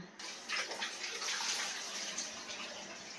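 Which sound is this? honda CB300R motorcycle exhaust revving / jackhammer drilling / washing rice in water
washing rice in water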